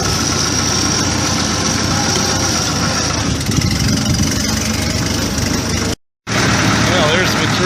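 An Allis Chalmers D17 tractor engine runs steadily at idle, a loud continuous mid-range rumble that holds throughout, broken by a brief dropout near the end.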